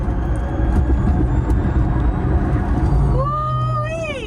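A Drako Dragon, a 2000hp electric SUV, drives with a loud, steady road and motor roar, then a rising electric whine sweeps upward near the end.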